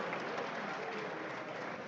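A live audience at a ceremonial celebration marking 150 years of the Sargrenti War and the Silver Jubilee of Otumfuor Osei Tutu II breaks into a round of applause, a dense, steady wash of clapping that holds throughout.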